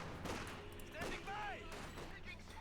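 Heavy gunfire crackles through a snowy Company of Heroes 2 battle between Wehrmacht and Soviet forces, dense overlapping bursts and booms continuing steadily with game sound effects layered on top.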